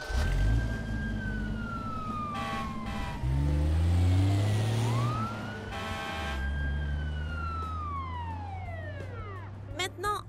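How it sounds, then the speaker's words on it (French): A toy fire truck plays its electronic siren signals, cycling through wailing sweeps and rapid warbling tones, loud and close, alongside a rumbling toy engine sound. "La voiture a des gyrophares qui peuvent s'allumer et différents signaux sonores."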